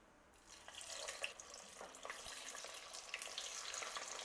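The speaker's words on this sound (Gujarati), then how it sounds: "એક આરે તેલમાં આવે એટલા વડા ઉમેરી દેશું" Vadas deep-frying in hot oil over a medium-high gas flame, giving a steady, dense bubbling sizzle with scattered crackles and pops throughout, close and fairly quiet, with no voices.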